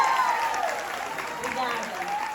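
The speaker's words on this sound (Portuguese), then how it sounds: "Palmas!" An audience at a seminar applauds a singer, a continuous patter of clapping heard under a voice and other talk, moderately loud and fairly close.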